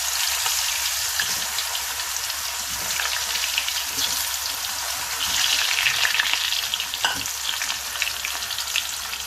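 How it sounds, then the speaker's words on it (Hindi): Taro root (arbi) frying in hot oil in a kadai gives a steady, dense sizzle and crackle that holds for the whole stretch, loud and close, with no talking over it. "इसमें हम अरबी को फ्राई कर लेंगे।"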